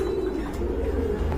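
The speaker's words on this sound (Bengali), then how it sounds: "মাশাআল্লাহ এক জোড়া কোকা কবুতর আছে" A pair of Koka pigeons, Gobinda Koka type, softly cooing close by in a low, steady murmur over faint background noise, with no other sounds standing out.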